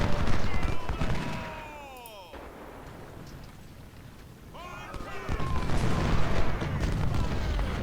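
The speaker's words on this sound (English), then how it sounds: "Bristow is getting shelled by artillery" Artillery shelling in Ultimate General: Civil War, a dense barrage of booming cannon fire and crackling gunfire at the start, easing to a quieter lull before heavy shelling swells again, loud and continuous.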